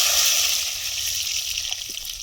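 A bright, steady sizzling hiss as potatoes are dropped into hot mustard oil in a wok, crackling close by without speech.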